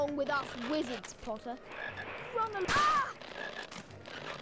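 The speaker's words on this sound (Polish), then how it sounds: "Tam mamy po prawej żabę" Frogs croak repeatedly in a Harry Potter and the Philosopher's Stone video game garden level, short throaty calls scattered over busy game music and effects, with a louder burst partway through.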